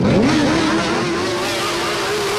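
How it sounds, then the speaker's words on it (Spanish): Motorcycles gathered at a rally by the Beethoven fountains rev their engines, a loud, close, rising and falling roar that settles into a steady drone, with no talk. "ellos hicieron rugir sus motores"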